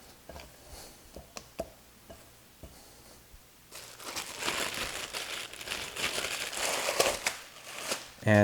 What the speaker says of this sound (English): Now the second stretch and fold.